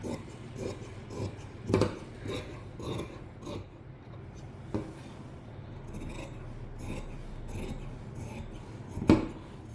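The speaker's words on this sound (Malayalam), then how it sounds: "ഇനി നമുക്ക് അത് ഫുള്ളായിട്ട് കട്ട് ചെയ്തെടുക്കാം." Scissors cutting through fabric from an old nightgown, a string of soft rasping snips and rubbing strokes close by, with a couple of sharper clicks of the blades.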